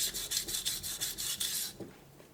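A knife blade sharpened on a Naniwa whetstone, quick rhythmic rasping strokes, about seven in a row, close and crisp, then a brief soft knock before quiet.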